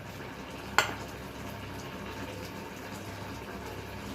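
Vegetables for aviyal simmer in a pot, giving a steady soft bubbling hiss throughout, with one brief clink near the start and no talking.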